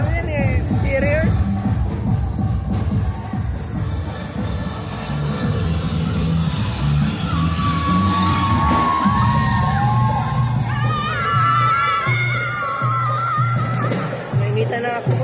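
Crowd shouting and cheering at a Sinulog street dance competition, a dense continuous roar of many voices with whoops and yells, nearby people talking and shouting throughout.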